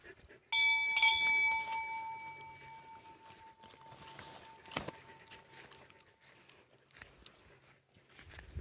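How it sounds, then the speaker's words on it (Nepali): A metal bell at a hillside temple in Gorkha is struck a couple of times near the start, ringing out bright and clear before its tone slowly fades over faint outdoor background noise. "घन्टी बजाउनु"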